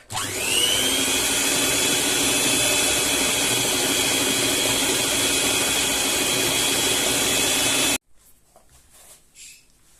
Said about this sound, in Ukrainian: Перемішуємо на маленьких обертах.